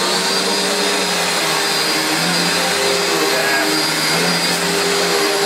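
A Panasonic MC-E42N vacuum cleaner, recently refurbished and checked for a rattle with its end caps removed, runs with a loud, steady whooshing roar and a high whine, unbroken throughout.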